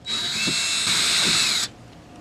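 Power drill running steadily for about a second and a half on tail light screws of a 1990s Ford F-series pickup, a loud close whine with a sharp stop, no talk.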